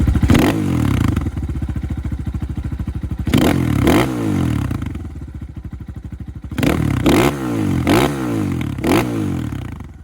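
A new Kayo motorcycle with a stock exhaust idles with a loud, throaty rumble, broken by a few quick revving blips that rise and drop back down, close by.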